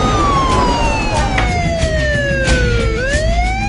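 A loud wailing ambulance siren sweeps steadily down then rises again, with traffic rumble underneath and no voices.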